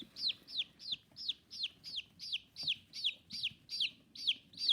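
A baby chick in an incubator peeps loudly and insistently, about a dozen sharp, evenly spaced chirps in a steady rhythm, close and clear with no other sounds.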